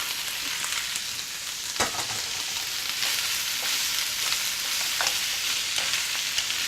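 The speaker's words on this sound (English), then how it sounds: "mix it well, and you can fry it for about 5 minutes" Mixed vegetables with bean curd sizzle in a pan for Malaysian chai choy, a loud, steady frying hiss with occasional soft stirring knocks.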